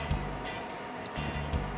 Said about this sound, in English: A little bit more water, a little bit at a time.